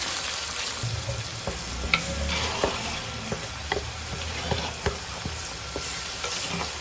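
Minced meat (keema) sizzles with garlic in a pan, while a utensil stirs it with repeated scraping clinks over a constant close-up crackle.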